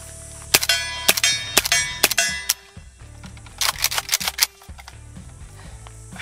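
Rounds from a 9x39 AK rifle firing subsonic ammunition strike a steel target, giving about a dozen close, sharp shots in quick clusters, each followed by a bright metallic clang.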